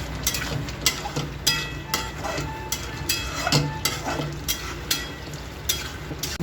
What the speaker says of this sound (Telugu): ఈ మిశ్రమాన్ని మనం ఒక 2 నిమిషాల వరకు బాగా ఫ్రై చేసుకోవాలి